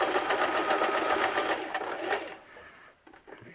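Sewing machine stitching a fabric Viking-style hood, running in a fast steady close whir for about two seconds before slowing and stopping, followed by faint handling noises.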